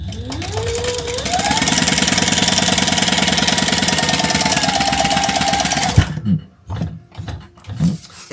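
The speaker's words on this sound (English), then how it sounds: "I'm just going to sew this on" A sewing machine stitches fabric in a quilting workspace, running steadily at speed for about six seconds with a whirring motor and rapid needle rhythm, then stopping abruptly, followed by a few short handling knocks.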